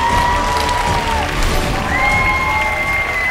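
An audience applauds and cheers for the winner of a contest that ended 5-4, a loud, sustained crowd roar with whoops, backed by a tonal music line.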